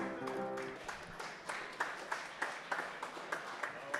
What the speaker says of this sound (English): Big applause for the piano guy